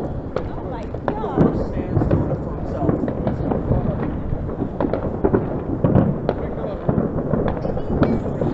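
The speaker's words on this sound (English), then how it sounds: "they do all the fireworks today" Official Fourth of July fireworks pop and crackle repeatedly at a distance, a continuous scatter of bursts with people talking in the background.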